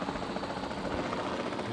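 A helicopter in the Jurassic World Evolution 2 video game gives off a steady, loud, broadband rotor and engine whir that holds without a break. No one talks over it.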